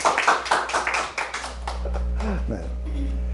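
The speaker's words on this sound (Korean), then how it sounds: "이럴 때는 박수라도 좀 치세요." An audience at a sermon gives a short, scattered round of hand clapping, a few sharp claps that quickly fade as a voice carries on speaking.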